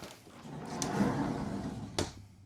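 A camper bunk room door swings and shuts with a soft sliding rub followed by two sharp clicks or knocks, near and brief, with no talking.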